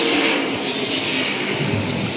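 Race cars roaring around the oval at Tri-County Speedway, a loud blurred engine wash from several cars running close together, steady throughout, no talking.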